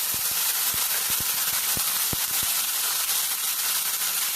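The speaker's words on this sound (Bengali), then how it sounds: "আলু পেঁয়াজ খুব ভালোভাবে ভাজা হয়ে গেছে এর মধ্যে দিয়ে দেওয়া হচ্ছে আদা রসুনের পেস্ট" Ginger garlic paste hits a pan of fried potato and onion, making a loud, even sizzling hiss with a few sharp stirring clicks early on, no one speaking.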